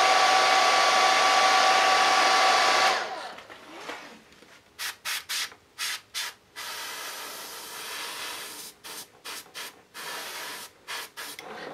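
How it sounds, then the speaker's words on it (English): A hair dryer blows loudly and steadily on freshly sprayed, painted blonde hair, then shuts off and gives way to a series of short hissing spray bursts in quick irregular succession. "Just gotta kind of hit it with a hairdryer."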